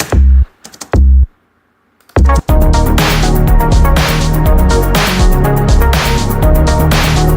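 Three sharp computer keyboard shortcut clicks in quick succession, a short pause, then loud dense breakbeat electronic music suddenly starts and plays on.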